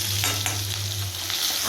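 Tamarind fries in a pan with a constant close sizzle, broken by a few stirring scrapes and clinks over a low steady hum, with no voices.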